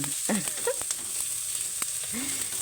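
Aromatics sauté in a pan for chicken tinola, a steady bright sizzle and crackle with occasional scrapes and stirring knocks from a utensil, heard close.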